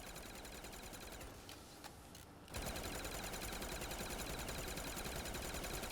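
Rapid burst-fire shots from the Gillen Bursty gun in Black Ops 3 Zombies on the Gorod Krovi map rattle out in a long, dense, loud stream with no talking.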